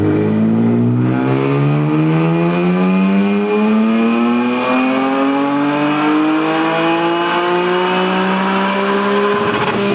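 A BMW M3 engine revs hard on a dyno, its loud, close note climbing steadily in pitch for nearly ten seconds before easing off at the end.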